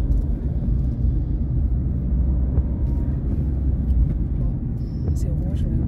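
Car interior during a driving lesson, a steady low engine rumble and road noise that swells slightly as it accelerates, close and continuous with no clear talk over it.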